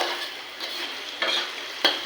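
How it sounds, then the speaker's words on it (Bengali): Garlic and ginger paste fries in a pan while being stirred, a close bright sizzle broken by a few quick spatula scrapes, with no one speaking. "এবার পরিমাণ মতন রসুন বাটা, আদা বাটা দিয়ে এবার একটু নেড়ে ছেড়ে বাদামি কালার হয়ে গেলে"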